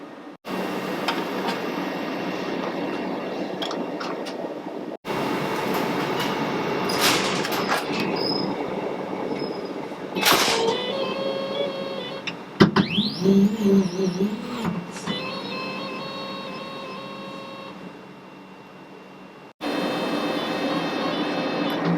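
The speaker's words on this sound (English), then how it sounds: "here we can move the entire bed on which the material rests on up and down" The bed of a laser cutter is driven up and down, giving a mechanical whirring hum that starts and stops in several runs, with a few clicks and a rising-and-falling motor tone in the middle.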